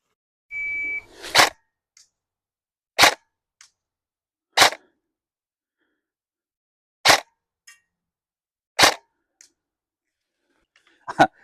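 A Cyma MP5 airsoft gun fires single shots at a metal target 30 meters away: six sharp cracks at uneven intervals, some followed by faint ticks, after a brief electronic beep at the start.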